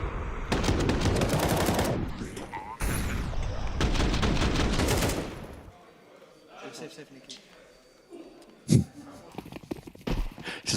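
Counter-Strike match gunfire: rapid bursts of automatic shots in two long volleys, followed by quieter scattered game sounds and a single sharp shot near the end.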